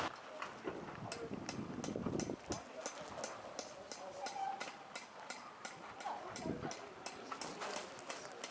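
Horses and carts clip-clopping at a heritage trades fair in Bathurst, regular hoof beats moving steadily along amid background crowd murmur and some talking nearby.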